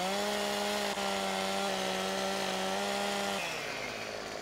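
A chainsaw cutting trees in the video game Farming Simulator 2017 drones steadily and loudly at a constant pitch, then drops off near the end, with no talk over it.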